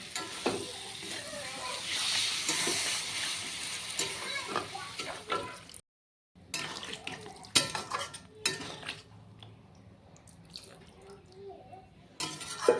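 Water poured into soybean chunks frying in a hot pan raises a loud, hissing sizzle, followed after a brief break by stirring clatter and scraping as the sizzle dies down.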